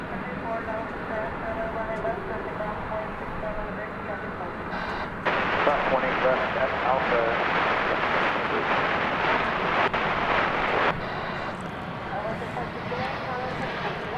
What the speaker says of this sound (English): We got a flight coming in from Los Angeles. Spirit Airlines Flight 1200.